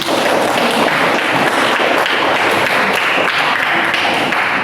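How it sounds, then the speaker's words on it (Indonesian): Audience applause fills a room after a Quranic recitation, a dense, steady wash of many hands clapping at full volume for the whole stretch, with no voices standing out. "silakan tepuk tangannya"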